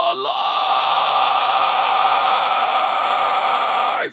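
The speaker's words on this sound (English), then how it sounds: "really, the scream itself is like very quiet" A metal vocalist demonstrates a sustained scream using breath control, one loud, steady, raspy held note lasting about four seconds with a sharp cutoff, performed alone and close to the microphone.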